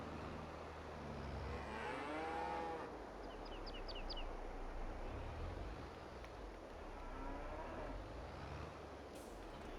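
Cows moo in the farming video game Farming Simulator 22, a low drawn-out bovine call rising and falling, then a fainter second moo, over steady farm ambience and faint chirps.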